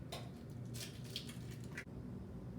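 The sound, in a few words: raw egg cracked into bowl of ground beef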